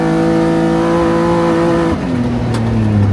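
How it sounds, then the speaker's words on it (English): A loud, close aftermarket exhaust on a Can-Am HD11 UTV drones with a throaty tone while accelerating, then drops in pitch as it shifts and keeps pulling. "You can hear that exhaust. Got a nice tone to it."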